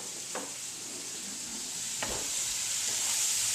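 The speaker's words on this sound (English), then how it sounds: "So I'm going to grab a spoon and stir this up." A spoon stirs baby portobello mushrooms in a hot oiled pan, giving a steady sizzle with a few soft scraping strokes, close and clear with no talking.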